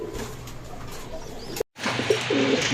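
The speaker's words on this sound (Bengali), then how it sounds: "বর্তমান সময় সবচেয়ে জনপ্রিয় কবুতরের ভিতরে একটি হচ্ছে এই লাল গোড়াগুলো" Red gorra fancy pigeons coo in a steady, close murmur, broken once by a brief silent gap before the soft cooing resumes, with no talking.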